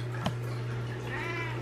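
A house cat gives a single short meow, close and clear, over a steady background hum from a home kitchen.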